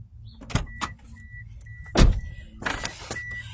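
A steady high key-left-in-ignition warning tone pulses repeatedly inside a car, mixed with a few sharp clicks and thumps from the cabin.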